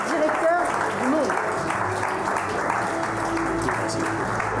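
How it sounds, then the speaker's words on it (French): Steady applause from a crowd fills the clip, with a voice briefly audible over the clapping. "je vous demande d'applaudir très fort Jérôme Fenoglio"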